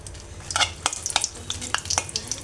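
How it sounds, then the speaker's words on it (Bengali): Whole dried red chillies fry in hot mustard oil, a quiet crackling sizzle with clusters of sharp pops and spatters coming close together. "সরিষার তেলটা গরম হয়ে আসলে আমি শুকনো মরিচ দিয়ে দেবো"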